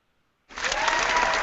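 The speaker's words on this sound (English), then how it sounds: "Big round of applause for those guys." Audience applause bursts in abruptly after a half-second of silence and holds steady and dense to the end, a full room clapping together at a live bike-themed show in Murray, Utah.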